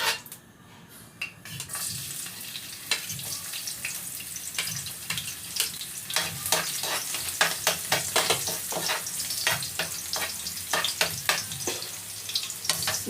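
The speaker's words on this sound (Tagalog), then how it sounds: "Lagyan na natin yung bawang." Garlic hits a hot pan and sizzles with a bright, crackling fry that builds quickly and stays busy. Sharp clinks and scrapes from stirring in the pan are scattered throughout.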